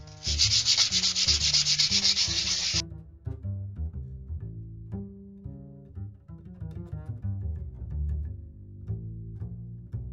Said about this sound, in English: I'm going to come in with some 120 grit sandpaper.